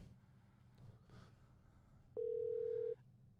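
A phone call ringing through during a live stream, heard as a single steady electronic tone lasting nearly a second over a low background hum.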